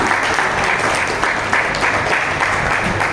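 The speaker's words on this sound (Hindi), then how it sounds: "जोरदार तालियों से इस ऐतिहासिक क्षण का स्वागत करें।" An audience at a book launch for a chef's Andaman cookbook breaks into loud, sustained applause, a dense, even wash of many hands clapping throughout.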